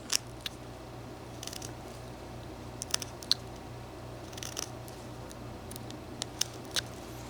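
A knife whittles a small figure from a one-inch block of butternut wood, giving sparse, faint scraping clicks and snips at irregular intervals over a steady low hum.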